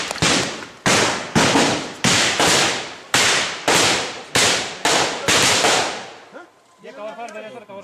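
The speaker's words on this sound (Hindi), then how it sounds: "ये कवर फायर दे रहे सर, कवर फायर दे रहे यहाँ पे पूरे" Rapid bursts of gunfire during a militant encounter in Shopian, Kashmir: about nine sharp, loud cracks in steady rhythm with echoing tails, followed by a short stretch of talk at the end.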